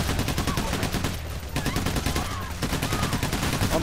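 Rapid automatic gunfire from the video game Payday The Heist, dense bursts of shots hammering continuously and loudly with barely a pause.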